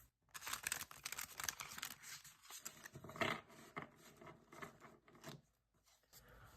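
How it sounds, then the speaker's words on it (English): Tarot cards shuffled by hand during a reading, a quiet, close crisp riffling and rustling that runs continuously for several seconds in uneven bursts, with no talk. "One more good shuffle."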